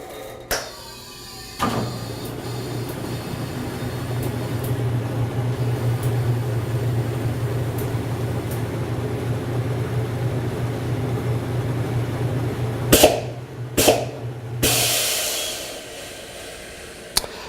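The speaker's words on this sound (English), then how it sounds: "I'm simply going to drop the hood, and I'm going to allow the balancer to do its job" With its hood lowered, a tire-shop wheel balancer spins a wheel, giving a steady, loud mechanical whir for about thirteen seconds. It then stops, and a few heavy clunks follow.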